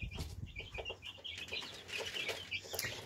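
Chickens clucking in an outdoor free-range enclosure, a steady overlapping chorus of short calls from several birds at close to moderate distance, with no voices.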